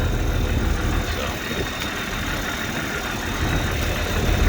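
A running engine drives an alternator, a steady rumbling idle that rises slightly in revs toward the end, loud and close.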